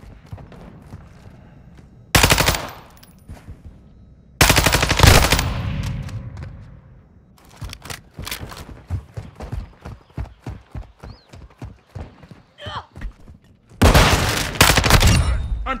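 Gunfire in Call of Duty Modern Warfare 2 during a team deathmatch: loud bursts of automatic fire at about two, four and fourteen seconds, with a run of rapid single shots in the middle, all close and punchy.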